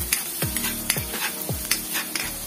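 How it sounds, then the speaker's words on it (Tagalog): Onion sautéing in olive oil in a pan sizzles softly, with a few spatula strokes scraping through it at a steady pace, close and moderately loud, no talking. "Pang sautay lang natin ang ating sibuyas"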